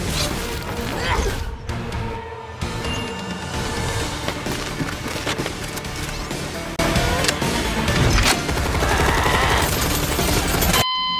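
Rapid animated gunfire rattles in dense bursts under loud action and crashes, with voices and music woven through the chaotic mix.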